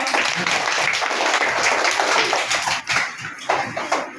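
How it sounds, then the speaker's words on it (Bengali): A classroom of third-grade children clapping together in a school in Bakerganj, Barisal, a dense, steady patter of many small hands filling the room, with a brief dip near the end before the clapping picks back up. "সবাই একটু হাততালি দাও"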